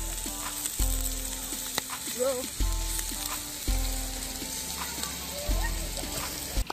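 Pork sizzles and crackles on a hot Thai mu kratha barbecue grill pan, a steady frying hiss broken by repeated clanks of utensils, with someone speaking briefly over it.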